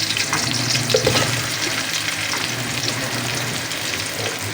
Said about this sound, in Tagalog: At sunod na po natin ngayon ang ating sibuyas.